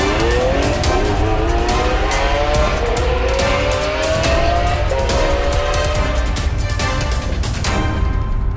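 Lamborghini Aventador SV V12 at full throttle on the Catalunya circuit in Corsa mode, a loud continuous onboard roar with rising gear-by-gear pitch sweeps and hard upshift cuts throughout.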